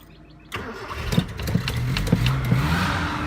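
A Mitsubishi Montero (Pajero) engine cranking and catching with the choke on, then running with a rough, uneven idle right up close.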